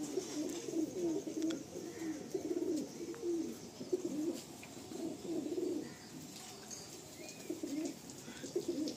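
Madrasi pigeons coo in repeated low, throaty phrases across the whole stretch, fairly close and steady, with faint chirps from other birds behind them.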